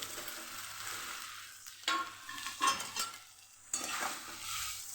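Vegetable muthiya dhokla pieces stirred in a pan with hing: steady oil sizzle with scraping spoon strokes against the pan, several sharp stirring bursts over the frying hiss.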